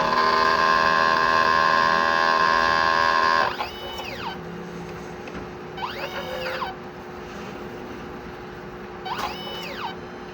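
A 30 cm DTF printer during a head clean cycle, first a loud steady mechanical whine and hum, then a quieter run with three rising and falling motor sweeps of the carriage and pump, no talking.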